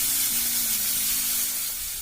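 Paneer cubes frying in hot oil in a pan, giving a steady close bright sizzle and hiss throughout with no talk.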